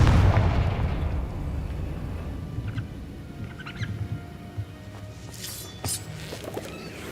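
A Confringo blasting spell goes off in Hogwarts Legacy as a deep, loud boom at the start. It fades into a low rumbling ambience, with a few faint sharp crackles later on.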